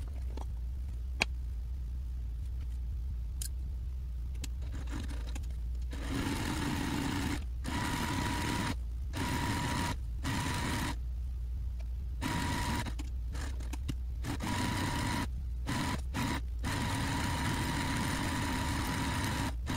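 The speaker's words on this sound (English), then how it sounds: "you want to sew it with 1/8 of an inch seam allowance on both long edges" A sewing machine stitches a crossbody bag strap with an eighth-inch seam allowance along its long edges, a steady close mechanical whir that repeatedly stops and restarts in short runs over a continuous low hum.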